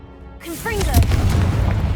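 A Confringo spell blast in Hogwarts Legacy, the video game: a voice briefly calls out, then a booming fiery burst swells and holds as a loud, rumbling roar to the end.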